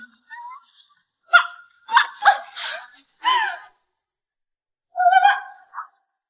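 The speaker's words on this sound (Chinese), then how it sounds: "我怎么听见狗叫声了？" A dog barks indoors in a house: several short, fairly loud barks in a quick cluster, a pause, then one more burst, with no talking in between.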